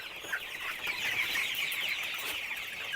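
Chickens in a small backyard flock cluck and chatter continuously, a steady busy murmur of bird calls with no talking.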